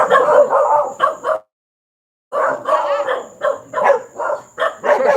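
A dog barks and yips in quick bursts, close and loud, then pauses briefly before another run of sharp barks.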